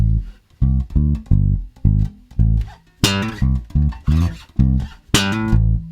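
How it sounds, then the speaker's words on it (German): Electric bass line with punchy plucked notes in a steady groove, later joined by bright percussive slap-and-pop attacks; no voices. "den kann man übrigens auch entweder anreißen, also slappen oder poppen."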